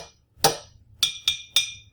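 A glass jar played as a percussion instrument: four sharp, ringing taps, one heavier strike followed by three quicker, evenly spaced hits, close and clear with no talking.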